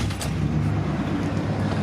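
An old pickup truck engine idles close by, a smooth, steady low rumble with no revving.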